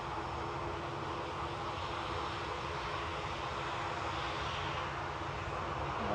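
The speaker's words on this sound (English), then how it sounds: "737-800 ready to go" A Ryanair Boeing 737-800 bound for Brussels Charleroi, its engines warming up for takeoff at Manchester Airport, gives off a steady, even jet roar that holds at the same level for the whole stretch, with no voices.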